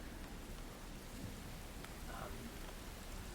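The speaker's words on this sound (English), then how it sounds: "Heavy rain and winds shake your ship." Heavy rain with wind lashes a ship at sea in a rough storm, a dense, steady hiss of downpour filling the whole stretch without pause.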